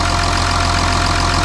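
An Audi Q7 engine runs steadily at idle, a loud, even mechanical hum with a low rhythmic pulse and broad whirring noise, close by and uninterrupted.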